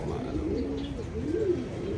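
A hen gives low, soft cooing calls close by, a continuous murmuring rise and fall with faint background noise and no clear speech.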